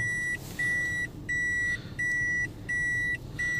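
Reversing warning beeps from a Toyota Aqua Hybrid car, a steady series of long, bright electronic tones separated by short gaps, repeating evenly over a low background hum.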